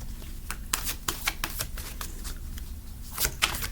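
Tarot cards being shuffled by hand, a run of crisp riffling flutters and soft slaps in an uneven rhythm, close and fairly loud with no talking.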